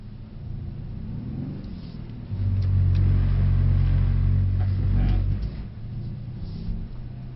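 Mercedes C63s engine revving hard during drift attempts with wheels spinning: a deep rumbling rise to a sustained loud roar for a few seconds, then settling back to a lower drone, heard from inside the car.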